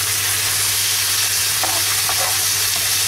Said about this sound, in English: I-fry lang natin ng konti or sauté.